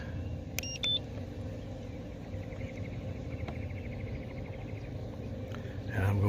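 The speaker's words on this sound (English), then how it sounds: "And now I'm going to power up the trolling motor again." A MotorGuide trolling motor powers up with a couple of short electronic beeps, then runs as a faint, steady whine over a constant low rumble.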